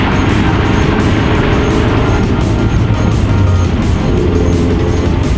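A 2016 Mazda MX-5 with the 2.0 engine is being driven, heard as a loud, constant roar of engine and road noise that fills the whole stretch without letting up.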